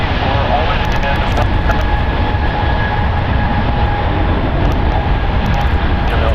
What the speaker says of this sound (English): Delta Airlines Flight 2888 going to Seattle. It's an Airbus A220.